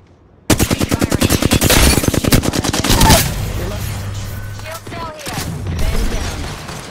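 Rapid automatic gunfire in a battle royale video game erupts in a loud, fast burst of evenly spaced shots lasting nearly three seconds, followed by ringing tones and scattered further shots under brief talk.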